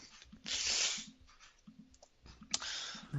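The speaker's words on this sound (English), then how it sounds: "When you hear a lot of clicking, you'll know what it is." A computer mouse clicks while someone edits in Microsoft Office. A few soft, close clicks are scattered among faint rustling desk noise, with no talking.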